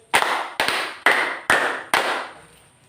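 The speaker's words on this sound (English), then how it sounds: "Let's give 5 claps." Classroom students clap together in unison exactly five times, sharp, evenly spaced loud claps about half a second apart, each ringing briefly before fading, with no talking.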